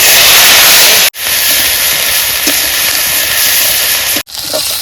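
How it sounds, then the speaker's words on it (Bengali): Cumin seeds tossed into hot oil give a loud, steady hissing sizzle that fills the foreground, cut by two brief silences. "গরম হয়ে গেছে তেল দিয়ে দিলাম এইবার জিরে ফোড়ন দিয়ে দিলাম"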